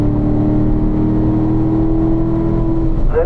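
Car engine braking and downshifting from fifth toward third on a track, a loud steady engine drone with a sustained tone, a brief rising whine near the end.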